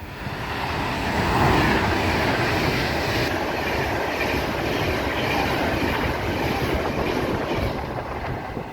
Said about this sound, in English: passing through now is what probably is the Pendolino that did the tone